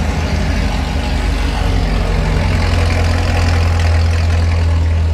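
A Chevrolet Camaro engine idles with a deep, steady rumble, loud and close, running continuously without revving.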